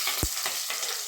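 Mustard seeds dropped into hot oil, a dense continuous sizzle with a couple of quick low thumps or pops in the first half, no voices.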